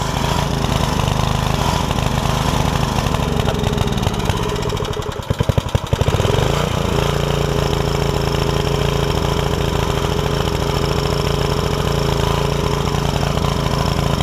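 A 5 hp Briggs and Stratton generator engine that is losing power runs loudly and close with a steady drone, briefly sagging and stuttering before recovering to a constant roar.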